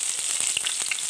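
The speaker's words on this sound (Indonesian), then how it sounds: "bawang merahnya kita goreng terlebih dahulu nih" Shallots frying in a pan of hot oil, a steady dense sizzle with small crackles and pops running throughout, close and fairly loud with no talking.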